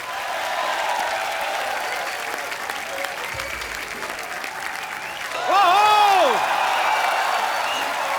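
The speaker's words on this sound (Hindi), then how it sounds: "एक बार दलेर बाजी का और मीका बाजी का जोरदार तालियों से स्वागत" A studio audience at The Kapil Sharma Show breaks into steady applause and cheering to welcome singers Daler and Mika, growing louder halfway through, with whoops and a few voices rising over the clapping.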